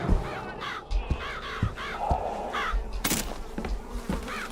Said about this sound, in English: Who let those crows in the house?